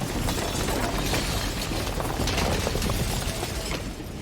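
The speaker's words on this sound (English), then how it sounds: "Then the shattering." A sustained glassy shattering from the game Slay the Princess, loud and dense, with crackling, grinding breakage running unbroken for several seconds.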